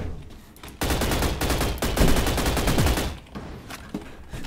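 Rapid automatic gunfire from a SCAR rifle in a Roblox shooter game, a loud sustained burst of shots lasting a few seconds before fading to scattered quieter reports.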